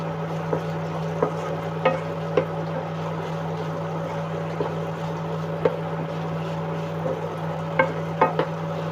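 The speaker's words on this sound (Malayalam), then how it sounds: "മൂന്നാല് വെളുത്തുള്ളി അല്ലി ഒരു കഷ്ണം ഇഞ്ചി കറിവേപ്പില ഇത് നമുക്ക് ഇട്ട് കൊടുക്കാം നമുക്കൊന്ന് വഴറ്റിയെടുക്കാം" Garlic, ginger and curry leaves sautéing in a pan, a soft, steady sizzle over a constant low hum, with occasional light clicks of stirring, close but quiet and without speech.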